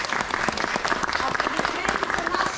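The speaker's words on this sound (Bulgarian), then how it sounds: "Аплодисменти за Алекс" Audience applause at a children's theatre school show, steady dense clapping filling the room for a few seconds while a voice talks over it.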